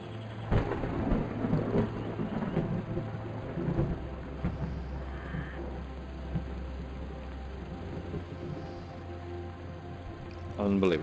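Stormy weather in the VR game Nature Treks VR: a steady wash of rain with low, rolling thunder rumbles running throughout, fairly loud and continuous, with occasional brief voice sounds over it.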